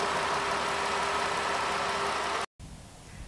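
A Ram 1500 pickup's 3.6-liter V6 runs at a steady idle, a constant broadband engine hum with a faint tonal whine, then cuts out briefly before resuming more quietly.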